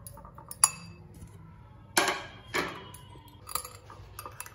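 Dried spices—oregano, salt and chili flakes—mixed into a bread pizza topping, heard as a few scattered clinks and scrapes of a utensil against a bowl, close and fairly quiet, with no talking.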